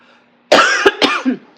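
A few harsh coughs close by, three or four bursts in quick succession after a moment of near silence.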